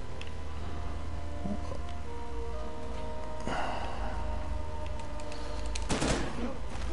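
Gunfire bursts in the video game Uncharted 4, scattered shots and a couple of louder volleys over a steady background din of game ambience.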